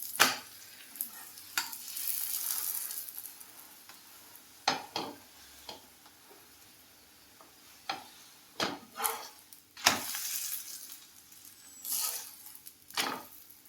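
Puran poli, a jaggery-coconut flatbread, cooks in ghee on a pan with a low crackling sizzle that swells and fades, punctuated by many sharp spatula taps and clicks against the pan.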